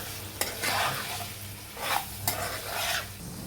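Salted chicken pieces fry in a pan for homemade chicken pickle, with a crackling sizzle and scraping stirs in a few close, uneven strokes; no one speaks.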